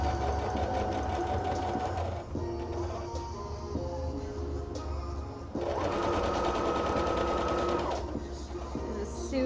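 A sewing machine stitches fabric in steady, fast-running bursts, with a short pause partway through before it starts again. It sits close and fairly loud, with soft room sound behind it.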